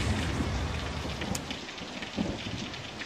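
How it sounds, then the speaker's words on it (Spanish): Heavy rain pours steadily in a thunderstorm from a movie trailer, with a dense, loud downpour throughout and a brief crack-like burst partway through. "Solo es una tormenta."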